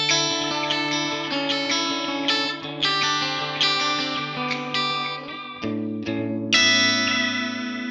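An electric guitar plays sustained chords and notes through a UA Ruby '63 Top Boost amp, drenched in delay and reverb so each note rings and overlaps; no voices.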